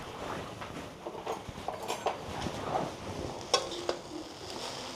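Egg noodles with vegetables are tossed on high heat in a pan with two spoons, light sizzling under scattered metallic scrapes and clinks from the spoons against the pan.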